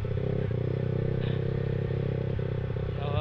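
Yamaha XSR 155 motorcycle heading down a slope on a North Luzon ride: a steady, close engine drone runs throughout with faint clattering and scraping over it, and the rev lifts slightly near the end.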